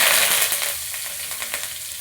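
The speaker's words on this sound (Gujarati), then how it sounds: "મીઠા લીમડાના પાંદડા નાખીશું." Curry leaves dropped into hot oil with mustard seeds and asafoetida for a Gujarati dhokla tempering in a kadhai, giving a loud, close, steady hiss and sizzle that eases slightly after the first moment.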